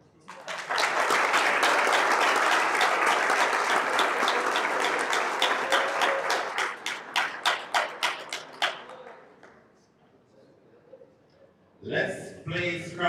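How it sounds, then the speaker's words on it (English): Audience applause at a Scrabble tournament in Accra, a loud, sustained burst of clapping from a large crowd that thins into scattered individual claps and fades, followed by a voice speaking. "Another big round of applause, ladies and gentlemen."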